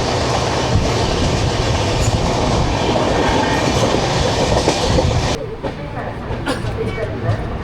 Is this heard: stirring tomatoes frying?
no